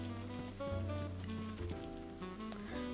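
Rain falls in DayZ as a steady, soft hiss that runs under prominent tonal music, with no voices.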